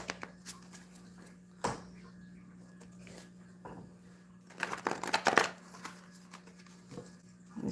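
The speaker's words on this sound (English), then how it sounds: "These ones are hard to shuffle though." Confession cards are shuffled by hand in bursts of close, crisp riffling and flapping, with quiet gaps between the rustling pushes.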